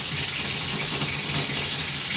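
Water rushes steadily through newly installed plumbing lines in a small barndominium, making a continuous even gush like an open tap at close range with no voices.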